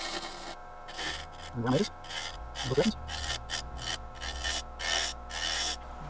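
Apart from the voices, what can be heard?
half-inch gouge carving spalted oak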